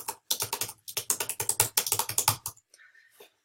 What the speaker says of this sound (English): I'm typing gibberish